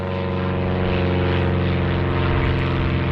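A propeller-driven aerobatic airplane flies overhead above the ocean, its engine drone loud, steady and rich in low harmonics throughout, with no talk.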